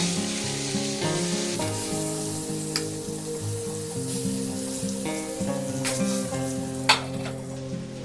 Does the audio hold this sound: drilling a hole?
no